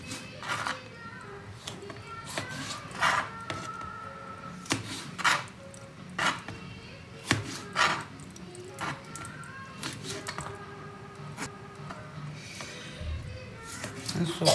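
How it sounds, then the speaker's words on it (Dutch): Hot pepper being chopped with a knife on a board for sambal, a series of irregular sharp taps and cuts, close and fairly quiet, with a voice talking in between. "En zo ga ik allemaal één voor één snijden."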